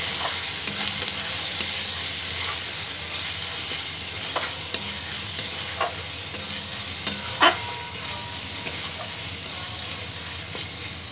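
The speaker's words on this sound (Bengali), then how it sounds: "দিয়ে একটু ভাজা ভাজা হবে।" Chicken pieces seasoned with turmeric and salt fry in a pan, a continuous close sizzle broken by the scrape and clink of a spoon stirring now and then.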